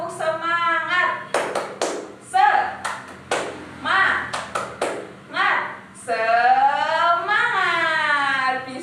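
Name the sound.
group clapping a rhythmic classroom cheer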